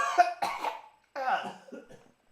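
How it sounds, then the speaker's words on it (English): Several coughs come from another room, two quick harsh bursts followed by a longer rough coughing fit, muffled and somewhat distant, with no talk over them. "Just cough from the other room."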